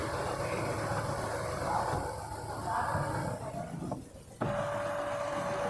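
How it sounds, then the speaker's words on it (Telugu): Inside a 2024 Hyundai Creta SX(O) facelift, the engine runs as a low, steady, muted hum beneath cabin noise. A brief dip near the end is followed by a faint tonal whine. "ఇంజన్ నాయిస్ కూడా విన్నారు కదా."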